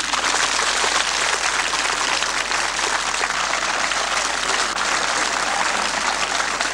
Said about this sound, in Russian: Аплодируем им.